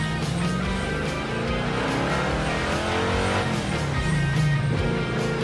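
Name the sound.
car engine revving hard toward 6000 RPM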